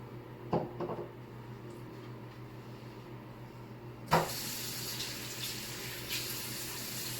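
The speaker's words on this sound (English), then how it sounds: "I'm gonna quick wash my hand first" Tap water switches on partway through and runs steadily while hands are washed under it at a sink, following a few soft knocks and handling sounds; no talking.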